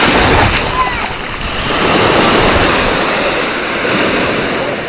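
Steady roar of surf with waves washing in and out, broad and continuous, with faint voices mixed in at times.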